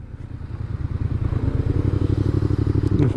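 Yamaha MT-07 motorcycle engine recorded from a helmet camera while riding, a loud, steady low throb with rhythmic pulsing and wind rush that builds slightly toward the end.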